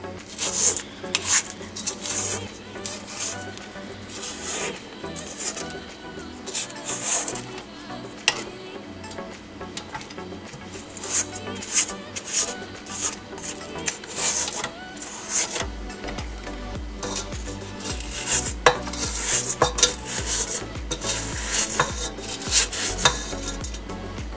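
A spatula scrapes around the sides of a mixing bowl of peppermint meringue made with meringue powder and sugar, giving a steady, close, rough rasping and stirring texture that runs throughout.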